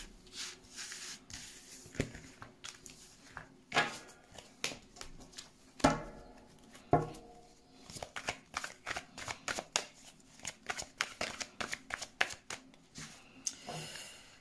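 Tarot cards are shuffled by hand before a reading, producing quiet, close bursts of rapid riffling and slapping in irregular rhythm.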